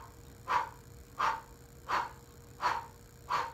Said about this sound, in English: You want to exhale out of the mouth like you're blowing out candles on a cake.